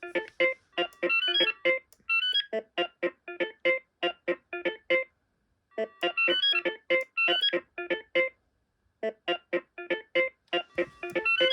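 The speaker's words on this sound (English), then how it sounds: "Yeah, that ringtone it is." A BT2200 cordless phone rings with a repeating electronic melody of quick pulsed bursts in regular phrases separated by short pauses, close and clear with no talking.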